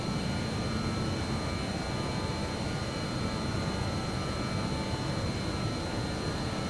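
A simulated aircraft engine in Microsoft Flight Simulator 2024 during a hand-flown climb after takeoff: a steady, loud, broadband engine drone with a faint whine, unchanging throughout and with no talking.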